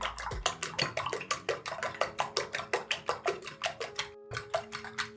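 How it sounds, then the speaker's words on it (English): A whisk beats eggs briskly in a bowl for a vegetable omelette, about four steady strokes per second, each a sharp close clink, going alone without talk and pausing briefly near the end. "Then I'll whisk."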